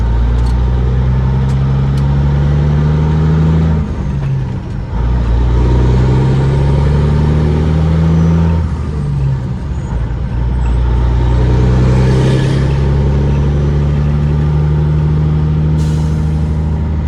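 A loud step-deck semi truck engine idling and revving nearby, a deep continuous rumble that rises and falls in pitch several times.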